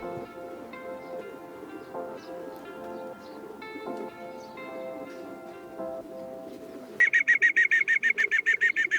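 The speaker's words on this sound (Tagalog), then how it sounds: "Dumating yung last bird natin, pang 15 bird ng 852." A racing pigeon arrives at its loft amid soft bird calls and faint rustling, followed near the end by a rapid, loud series of regular clicking beeps from the loft's arrival equipment.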